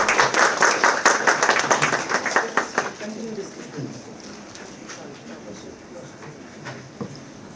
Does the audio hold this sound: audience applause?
yes